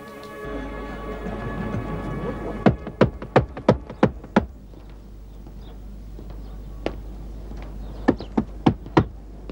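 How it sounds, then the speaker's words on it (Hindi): Knocking on a wooden door: a quick run of five or six sharp raps, then a pause and a few scattered knocks, over a low steady hum with faint background music at the start. "खटखटाऊं दरवाजा?"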